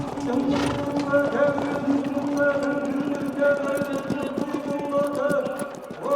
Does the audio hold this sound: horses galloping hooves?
yes